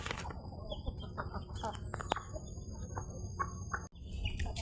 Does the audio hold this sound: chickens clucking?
yes